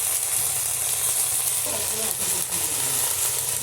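Spice masala frying steadily in a pan, a continuous loud sizzle with faint background noise, the cooking sound heard up close without talk.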